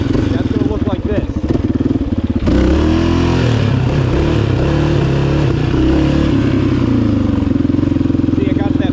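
A motorcycle engine roars loud and close during a wheelie, shifting from choppy revving to a sustained throttle-held drone, with someone talking over it.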